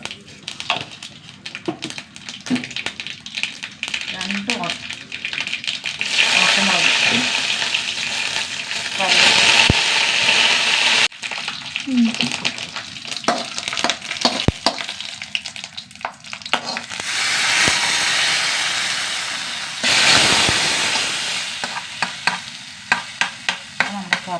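Mustard seeds and a quarter teaspoon of fenugreek seeds frying in hot oil, with a steady broadband sizzle and crackle that swells and fades in waves. Scattered sharp pops and stirring scrapes run through it, close and fairly loud.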